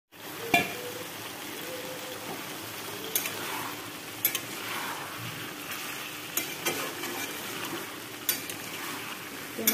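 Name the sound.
duck meat, potato and pumpkin stirred and fried in a pan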